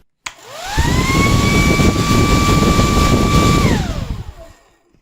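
A hair dryer with a worn fan motor spins up with a rising whine, holds a loud steady airy roar with a tonal hum for about three seconds, then winds down and stops.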